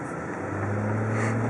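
A 2013 Chevrolet Silverado 2500HD LTZ pickup engine runs close by with a steady, loud low hum and an even idle drone.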